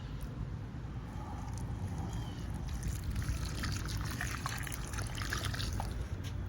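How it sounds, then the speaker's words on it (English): Water pours from a watering can onto potted plants in a soft, steady trickle and splash, faint and continuous throughout. "So let's start with the watering. We'll just do a real quick water."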